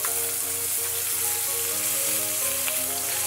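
Lamb chops sear in a hot pan over medium heat, giving a steady, dense sizzle that continues without a break from start to finish.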